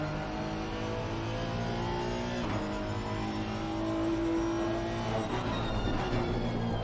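Race cars hum through the pit lane at the Nürburgring GP circuit in a sim racing event, a steady droning engine note with a limited-speed whine, holding constant at moderate loudness with a slight rise near the end.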